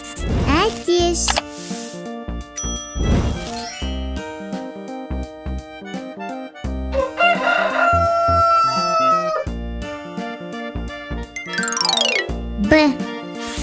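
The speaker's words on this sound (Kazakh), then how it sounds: "Әтеш." A rooster crows over a bright jingling music track, the call rising clearly in the middle, with a voice also heard.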